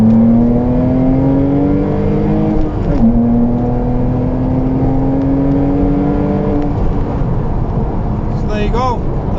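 Porsche Cayman 987 engine pulling hard in second gear, a loud rising drone climbing steadily in pitch, with a brief dip around a gear or throttle change, heard from inside the car.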